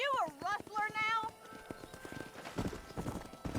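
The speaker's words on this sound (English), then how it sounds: "Control that horse, will ya?" Horse hooves clip-clop steadily in Red Dead Redemption, with a horse whinnying near the start, heard close up while a voice talks over the hoofbeats.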